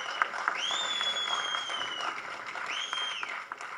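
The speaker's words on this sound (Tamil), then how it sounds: "அங்கே கனிஷ்கா அவனுடைய நண்பர்கள் தனியாக அவனுக்கு வந்து ஹோலர் பண்ணி கைத்தட்டிக்கிட்டே இருக்காங்க." An audience at a Tamil film audio launch event claps in a dense, continuous patter, with shrill whistles rising over the crowd noise.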